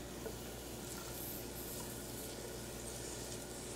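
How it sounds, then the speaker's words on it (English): Diced onion and minced garlic sizzle in a pan as a continuous, even hiss. It is close and steady throughout, with no talking. "Can you hear it starting to sizzle?"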